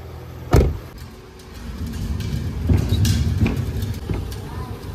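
A car being backed out of a home driveway at the end of a Saskatoon winter, with a door thud, a low engine rumble and tyre noise building close by while a voice speaks briefly.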